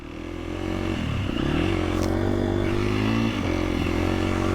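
A motorcycle engine running steadily close by on an off-road training bike, a loud continuous idle hum with a slight rise in revs and a brief clatter near the middle.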